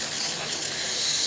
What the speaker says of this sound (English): As you can see, steady steam coming out of the one.